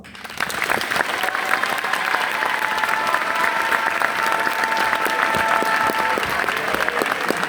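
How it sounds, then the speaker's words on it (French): An audience applauds seven young candidates at a French speaking event, with dense, steady clapping that fills the whole stretch at an even level, joined by a faint background murmur and a sustained tone running through the middle. "on peut les applaudir pour ça"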